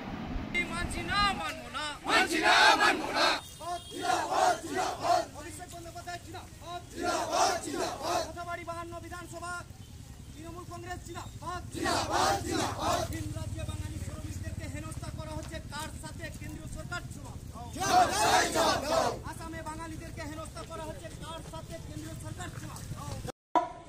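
Protest crowd chanting slogans against SIR and NRC during a Trinamool Congress deputation outside a BDO office in Kaliachak 2 block, rhythmic bursts of many voices rising and falling over a steady crowd murmur.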